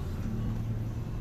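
A car pulls away from a stop during a driving lesson, with a steady mid-pitched engine hum that rises slightly over a short stretch and has no talk over it.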